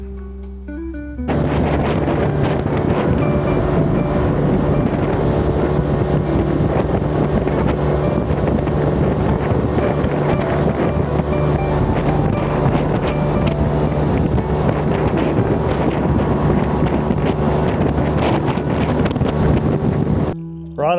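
A small aluminium fishing boat motors up a river above a weir, its engine a steady, loud drone mixed with heavy wind buffeting, continuous for the whole stretch with no talking.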